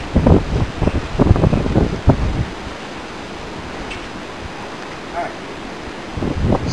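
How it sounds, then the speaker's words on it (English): Strong wind blows outdoors and buffets the microphone with a broadband roar, loudest and most gusty in the first two seconds, then settling into a steady rush. "it's really windy out here today"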